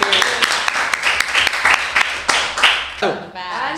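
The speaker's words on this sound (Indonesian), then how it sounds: "Tepuk tangan buat teknik dulu." Scattered audience clapping for the technical crew at an Indonesian school independence event, a handful of sharp individual claps in an uneven rhythm, with voices talking over it near the end.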